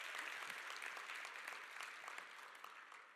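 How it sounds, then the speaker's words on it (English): An audience at a live motivational talk breaks into steady applause, a dense wash of clapping that holds fairly even for about three seconds and fades only slightly, heard from a distance at low volume. "Give her a big round of applause."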